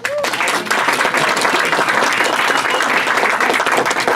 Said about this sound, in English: Another round of applause for our panel, please